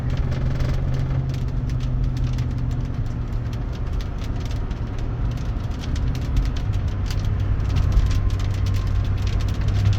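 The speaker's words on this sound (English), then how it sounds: "Let's drive about a couple of miles, get it up to about 70, see what it feels like." An SUV cruising at highway speed, around 70 mph, gives a steady low engine drone and road rumble heard from inside the cabin, continuous and fairly loud with no voices over it.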